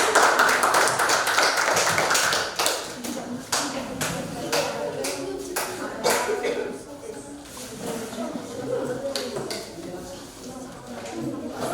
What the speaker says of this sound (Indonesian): berikan dulu tepuk tangan bersama